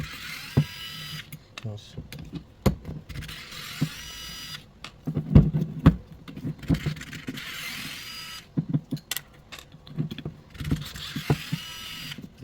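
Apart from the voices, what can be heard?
unscrewing BMW transfer case actuator motor screws with T25 driver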